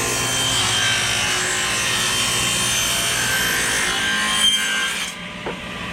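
A table saw fitted with an MJ splitter rips through wood in one long continuous cut, a loud, steady grinding rasp that stops abruptly near the end. No talking.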